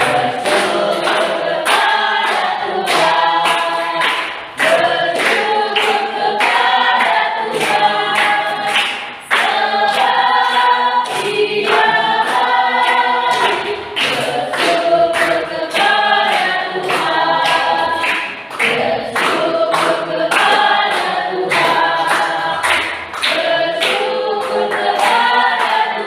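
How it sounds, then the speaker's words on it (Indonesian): A standing class of seventh-grade students claps in a steady, rhythmic beat throughout, loud and close, with singing or voices mixed over the clapping. "Semuanya berdiri. Sambil tepuk tangan."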